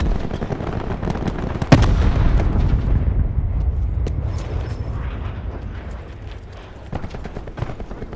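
A frag grenade going off in Call of Duty: Black Ops 4, one sharp loud blast followed by a rumbling boom that fades over several seconds, with scattered gunfire continuing around it.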